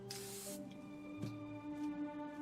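A can of black spray paint gives a short, loud hiss of spraying, followed by faint softer puffs over a steady background hum, with no talking.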